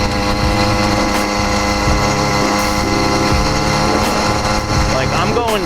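A YD100 motorized bicycle engine buzzes continuously while pulling a trailer into a strong headwind, a loud, steady two-stroke drone mixed with heavy wind rush and no pauses.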